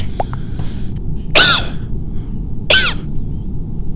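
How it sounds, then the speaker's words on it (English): Two short, sharp coughs from a person, roughly a second apart, rise above a steady background hiss and faint clicks, with no talk in between. "Oh, the cough."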